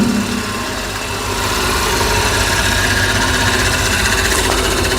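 A feed crusher machine with a copper-wound motor runs steadily, giving a loud, continuous mechanical hum and rumble with constant vibration and no pauses.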